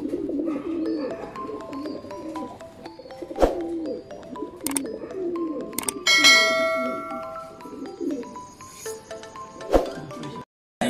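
Fantail pigeons coo in soft, repeated low throaty calls close by, mixed with occasional sharp clinks and rattles and a brief bright metallic ringing.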